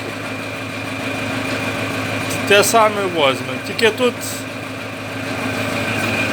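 A homemade generator engine runs steadily with a constant mechanical drone and hum throughout, while people talk briefly over it in the middle.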